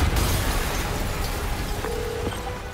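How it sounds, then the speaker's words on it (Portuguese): A deep, rumbling explosion in the game Spider-Man with a sustained low roar that fades slowly, loud and close, with no voices. "uma explosão!"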